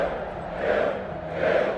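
Roaring arena crowd in the Gladiator film, a dense mass of voices swelling twice in rhythmic chant-like surges, loud and continuous.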